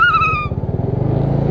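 A car moves along a narrow, densely built residential street with speed bumps. Its low, pulsing engine rumble is heard close by, with a brief high whine at the start.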